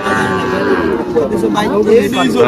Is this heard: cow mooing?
yes